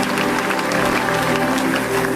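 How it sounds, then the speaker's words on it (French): A church congregation applauding together, a dense steady wash of clapping hands close around, with a low musical hum underneath. "Clap your hand for Jesus."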